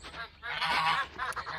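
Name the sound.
geese honking in a pen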